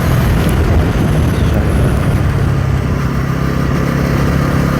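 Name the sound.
motorcycle engine while riding on road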